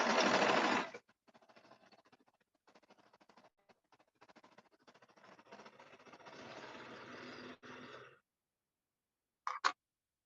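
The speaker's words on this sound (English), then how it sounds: "And we're going to sew." A sewing machine stitches a bell sleeve shirt, starting with a loud close burst, then running in quieter stop-start stretches of rapid mechanical ticking and whirring before stopping, with a brief clatter near the end and no talk.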